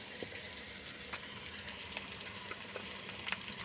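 Onions frying in hot oil in a pan while making kurma, a soft, steady sizzle with faint scattered crackles, fairly quiet and with no talking.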